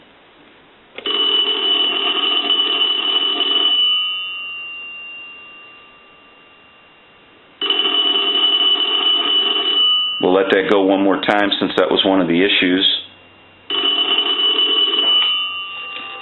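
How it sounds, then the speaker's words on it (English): Electromechanical bell of a three-slot A&E payphone under repair rings in loud sustained bursts, three rings separated by pauses, with someone speaking briefly between the second and third. "So now what we can do is we can go ahead and ring the telephone."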